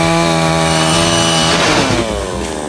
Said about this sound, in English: First up, the chainsaw test.